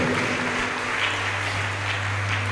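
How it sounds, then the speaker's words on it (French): A church congregation applauding for Jesus during a service, a dense continuous clapping wash over a steady low hum, with rhythmic pulses in the clapping. "Applaudissez pour Jésus."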